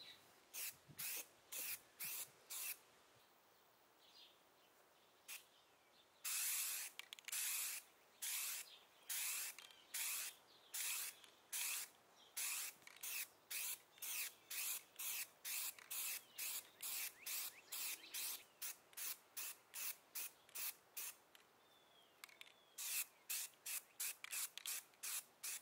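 A spray can sprays white shellac-based primer onto a vintage electric guitar body in a garage, a long series of short, loud, close hissing bursts in an uneven rhythm, with a faint rattle between some bursts and no talking.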